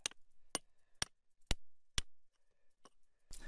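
Metal chisel struck repeatedly against rock to loosen a gemstone: six or seven sharp, close, loud clanks at roughly half-second intervals, each ringing briefly, with nothing else heard between blows.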